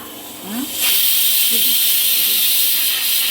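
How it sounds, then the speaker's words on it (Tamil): Tea boiling in a pot gives a loud, steady steam-like hiss that swells in after the first second and holds throughout, with faint voices briefly underneath. "கொதிக்கிட்ட கொதிக்கட்டும். நல்லா கொதிச்சாத்தே டீ டேஸ்ட்டாக இருக்கும்."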